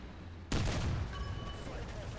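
Tiger II 105 tank gun firing in the War Thunder video game: one sudden heavy boom that rolls into a long, loud rumbling decay, heard alone without talk.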